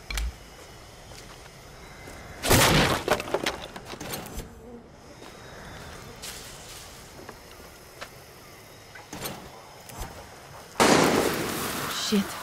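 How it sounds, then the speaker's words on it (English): Gunfire in the shooter game Far Cry 6: two loud bursts of shots, one early and one near the end, with quieter stretches between and a voice muttering in the gaps. "Shit, who's shooting?"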